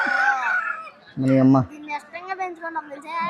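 A fighting rooster at a Sankranti cockfight event crows and clucks, with a strong close call in the middle, heard amid people talking nearby.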